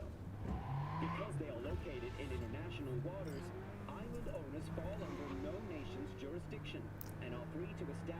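An abandoned car driven in Cyberpunk 2077 gives a low engine hum with a shifting tonal whine as it speeds up and slows, heard fairly quietly beneath someone talking throughout.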